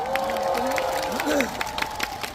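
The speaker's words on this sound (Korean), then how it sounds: "김현호 지휘자님께 박수 한번 주세요, 여러분." An outdoor concert audience in a Daegu park claps and cheers for the conductor of a Korean traditional orchestra, a steady crowd roar with whoops and bursts of shouting, and a voice sounding through it.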